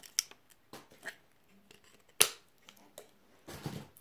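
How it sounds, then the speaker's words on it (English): Sharp, scattered snips and rustles of scissors cutting through packaging, with crinkling plastic between cuts, close and fairly quiet. "we may need the scissors for this one"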